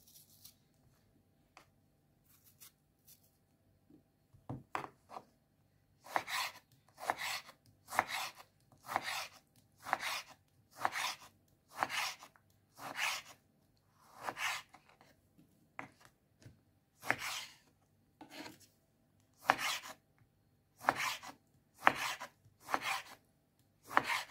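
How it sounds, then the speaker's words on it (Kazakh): A knife chops a tomato on a cutting board in a home kitchen, a steady series of sharp, close taps and slices repeating at an even pace after a few sparse cuts at the start. "Енді помидорды турап аламыз. Түбін алып тастаймыз."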